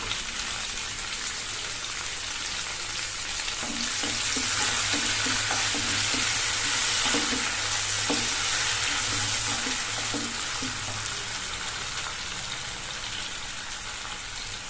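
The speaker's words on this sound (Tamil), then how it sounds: "சேர்த்து நல்லா வதக்கிக்கணும்." Small onions and tomato sauté in a hot pan for goat blood gravy, a loud, steady sizzle that runs throughout with occasional stirring scrapes and no talking.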